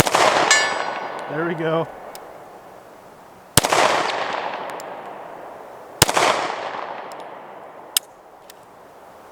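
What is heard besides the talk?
SCCY CPX2 pistol shots hitting steel target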